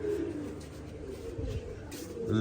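Pigeons coo softly in low, repeated throaty calls in a village loft, fairly close, with faint background sounds and no talk.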